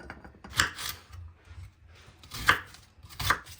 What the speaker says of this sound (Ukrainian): а ми нарізаємо цибульку